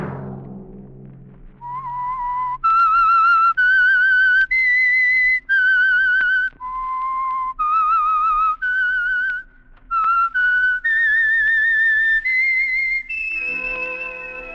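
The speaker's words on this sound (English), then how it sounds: "Let that whistle be your signal" A lone whistler carries the theme tune of The Whistler radio program, a steady, close melody of held and stepping notes over a faint low hum, rising to a sustained final phrase before a musical chord enters.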